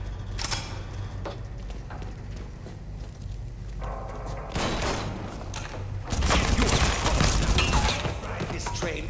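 Bursts of gunfire at a helicopter in Mafia III: Definitive Edition crack out in scattered shots, then swell into a dense, loud volley near the end, with mechanical clatter and shouting voices mixed in.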